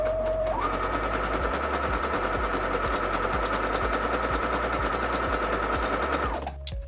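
A sewing machine runs a continuous zigzag stitch at about 1.4 width and 3.5 length, a steady close mechanical whir with a rapid even needle rhythm, then it stops near the end.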